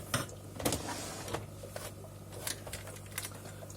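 Sewing machine stitching fabric scraps for a DIY coaster, a quiet, close mechanical run of light rhythmic clacks and whirs in short bursts.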